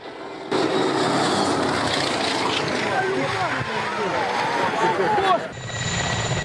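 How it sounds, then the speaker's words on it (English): A propeller plane drones close overhead, its engine roaring and shifting in pitch as it banks, with excited voices around it. "Low-flying plane attempts a sharp maneuver near the ground"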